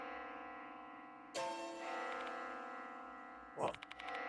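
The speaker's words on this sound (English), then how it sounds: "The sound of a bell." A bell rings in the horror video game Death Mark 2, two resonant tolls with long ringing decay over a faint, quiet background drone.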